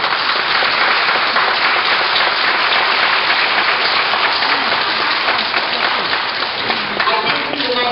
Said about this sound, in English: Now let's give them all a nice round of applause.